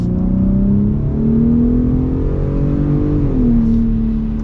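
A 2023 Ford Raptor with the 37 Performance Package is floored on snow, its engine note climbing steadily in a loud, sustained rev before easing off, heard close from inside the cab.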